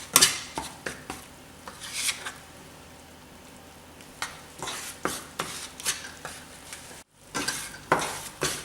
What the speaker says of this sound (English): I'm going to turn the heat up just a hair and let this cook a bit until it starts to darken